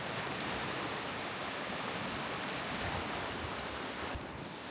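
Sea waves washing steadily onto the beach at Aktaş, Antalya, during a seaside fishing outing, a continuous close hiss of surf with some wind buffeting the microphone.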